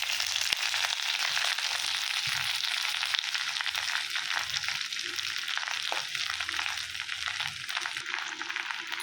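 Drumstick leaves (murungai keerai) dropped into hot oil for a stir-fry, giving a steady, close, hissing sizzle that holds evenly throughout with a few faint clinks underneath.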